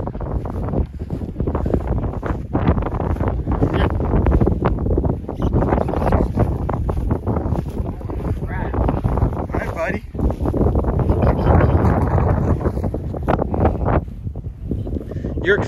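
Strong wind gusts across an airfield runway, buffeting the microphone with loud, uneven roaring throughout.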